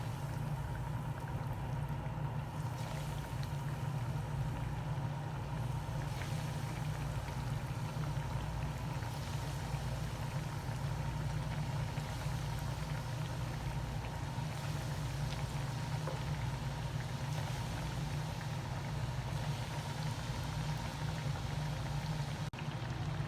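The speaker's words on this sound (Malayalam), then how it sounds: "ഇത് നമുക്കൊന്ന് പൊരിച്ചെടുക്കാം" Cutlets frying in a pan of hot oil, a steady dense bubbling sizzle that runs unbroken and fairly loud throughout.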